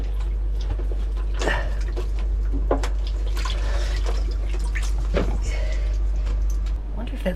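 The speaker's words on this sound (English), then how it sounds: "I'm gonna actually mop that up." Water is mopped up from a sailboat bilge, with wet swishes, drips and cloth squeezing close by over a loud, steady low-frequency engine or pump hum.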